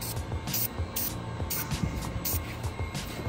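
Short hissing bursts of filter oil sprayed onto a Banks Power air filter repeat about seven times in a quick, steady rhythm over a low background hum.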